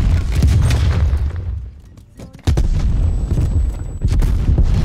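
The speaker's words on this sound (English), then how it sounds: "Let's throw some frag grenades over there." Frag grenade explosions in the video game Black Ops Cold War, heavy booming blasts with rumbling low end, a brief lull, then another sharp loud detonation followed by more rumble.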